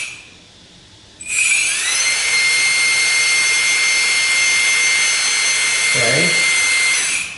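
A 1/14-scale remote-control Caterpillar 797 haul truck starts its motor with a sudden high whine. The whine stays loud and steady, with a brief low wobble near the end.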